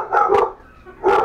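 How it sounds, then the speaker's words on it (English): A couple of dogs bark twice indoors near a kitchen where brisket is being cooked, two sharp close barks with a brief pause between them. "Excuse my dogs."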